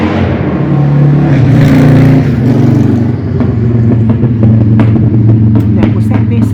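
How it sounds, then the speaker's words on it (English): A motorcycle roars loudly close by, revving and droning steadily as it passes, with a whirring rumble throughout. "Now, was that necessary? Motorcycle."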